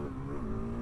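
A supermoto motorcycle engine runs close by, a steady, strong harmonic drone with a slight pitch shift midway, lasting under a second; no distinct pops stand out.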